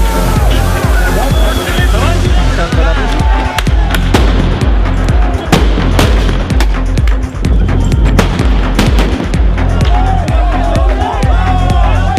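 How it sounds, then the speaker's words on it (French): Loud, chaotic protest scene in France with a dense crowd roar, repeated sharp bangs and thuds from tear gas grenades and flashball shots scattered throughout, voices shouting over the constant din. "Mais la valse des grenades lacrymogènes et tirs de flashball"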